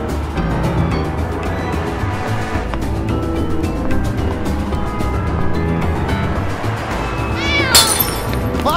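Cats meow and caterwaul repeatedly in the point-and-click video game Nick Bounty, layered over a busy game soundtrack and ambient effects, with a louder yowl near the end.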